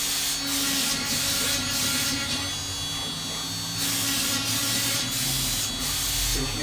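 A spray gun hisses in repeated close bursts while Star Wars Aztec signs are painted, with a continuous airy whoosh broken by short pauses as the piece is turned.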